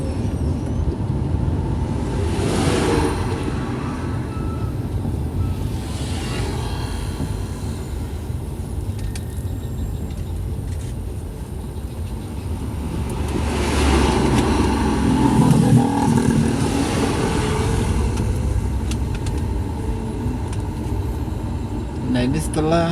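Steady road rumble and engine drone from a car travelling in slow, heavy traffic behind trucks and other large vehicles on the Palembang–Jambi eastern highway, a continuous low roar that swells at times, with someone talking over it.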